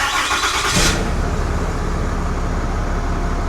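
A 2023 Ram 2500 Cummins diesel at 100K miles cranks briefly and fires up, then settles into a steady, loud, close idle rumble with no voices.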